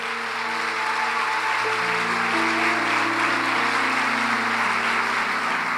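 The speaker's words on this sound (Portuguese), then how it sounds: "Dê um aplauso a Ele por isso" Church congregation applauding during a sermon, a steady broad wash of clapping under sustained organ or keyboard chords that hold throughout.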